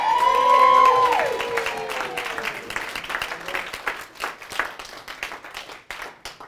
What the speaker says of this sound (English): give them a massive round of applause for all our hard work